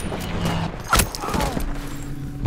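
Gunfire in the World War II shooter Battlefield V, a burst of rapid shots with one sharp crack standing out mid-way, set among battle noise and faint voices.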